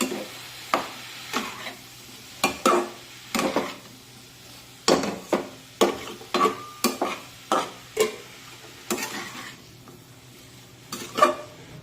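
A spatula stirs radish pod sabzi with salt in a pan, giving a series of short scraping knocks at an uneven, unhurried pace, close by and moderately loud over a faint low hum.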